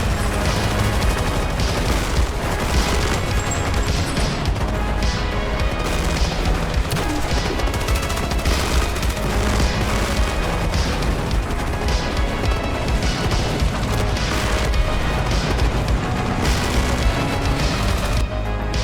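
Battle din in the tank wargame Armored Brigade II, with continuous dense gunfire, machine-gun bursts and booming explosions from airstrikes and fire missions, loud and unbroken throughout with no talking.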